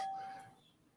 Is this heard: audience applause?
no